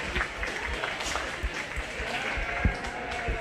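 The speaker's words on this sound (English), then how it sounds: "Give these kiddos a good round of applause" A crowd gives a steady round of applause for the children showing sheep and little lambs at a 4-H/FFA livestock show in an indoor arena.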